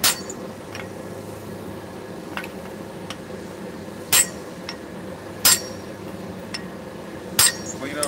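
Sharp metallic hammer blows on an anvil while forging and fullering steel, a handful of isolated clanging strikes spaced a second or more apart over a low steady background hum, fairly close.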